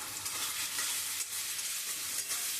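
Potato curry being stirred in a frying pan right after sugar is added for a vegetarian aloo dum, giving a steady close sizzle with scraping stir sounds throughout and no talking.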